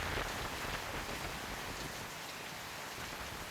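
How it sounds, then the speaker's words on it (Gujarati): Rain soaks villages near Savarkundla in Gujarat's Amreli district: an unbroken, close wash of falling drops spattering on surfaces, constant in loudness from start to finish, with no speech. "સાવરકુંડલા અને આસપાસના ગામડાઓ વરસાદથી ભીંજાયા"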